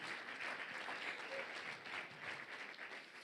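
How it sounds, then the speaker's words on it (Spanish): A congregation applauds during a church sermon, a soft but sustained patter of many hands clapping that rises and falls gently over a few seconds, heard from a distance. "Si le vas a dar un aplauso, dáselo a él en gratitud."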